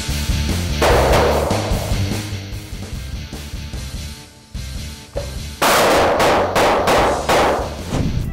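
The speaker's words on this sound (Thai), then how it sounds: "พอเห็นผู้ชายเสื้อดำโผล่มายิงเลยนะครับ" Gunshots fired during a staged action scene for a reality show, sharp bursts and cracks scattered over several seconds with a dense, loud cluster of shots toward the end, mixed with background music.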